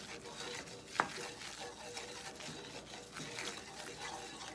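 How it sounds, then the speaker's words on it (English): Brown butter and flour are stirred in a pan with a quiet scraping, sizzling texture, and a single sharp clink of the utensil comes early on. "So I'm gonna stir it and give it a little bit more time here."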